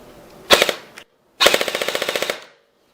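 An M4-style airsoft rifle fitted with a Burst Wizard 3 fires a short three-round burst, pauses, then fires a rapid full-auto string of about a dozen sharp, evenly spaced shots close by.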